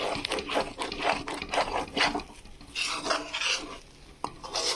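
A spatula scrapes and stirs egg bhurji with onion greens in a pan, rhythmic rasping strokes repeating close by, with no talk over the scraping.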